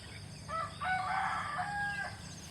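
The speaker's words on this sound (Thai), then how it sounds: "นี่ดูน้องไก่นะคะ ดูน้องไก่ดูน้องไก่" Several chickens and a rooster crowing outdoors beside a neighbouring house fence, heard during a morning walk through rural rice fields; one clear, fairly near crow with tonal rising and held notes rides over a steady background hum.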